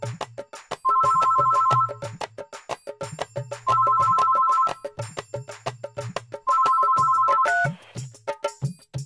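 A phone ringtone plays during an outgoing call, three repeated melodic ring cycles with short pauses between them, clear and close with no talk.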